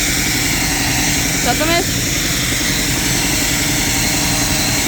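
Belarus MTZ tractor engine running steadily while the tractor is pulled out of boggy, marshy ground, a loud constant drone under a brief spoken word.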